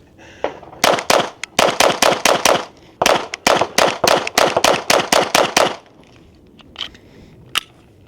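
A Sig Sauer P322 .22 pistol fired rapidly outdoors, about twenty sharp close cracks in quick bursts with short pauses, followed by a couple of faint clicks and one last pop.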